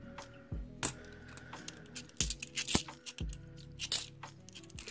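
Metal coins clink and tap as they are handled and slipped into a coin collector's folder, giving several sharp, close, distinct clicks spread unevenly over a few seconds with quiet handling noise between.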